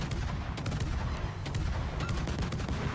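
The main gun turrets of the battleship Hawaii fire in World of Warships, a dense rolling barrage of deep booms with several sharp cracks layered over a continuous low rumble.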